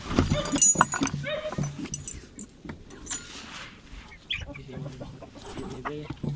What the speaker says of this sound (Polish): Więc zaraz się widzimy, jak wygonimy kury.